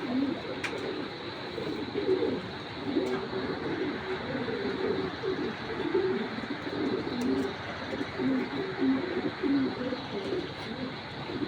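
Racing homer pigeons (giribaz) coo repeatedly in a soft, continuous murmur, close but fairly quiet, with faint background noise and no talk.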